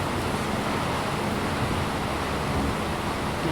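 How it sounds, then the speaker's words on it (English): Strong wind gusts sweep across a golf course at a professional women's championship, a dense, steady rushing roar buffeting the microphone throughout, with no one speaking. "Huge gusts of wind right now."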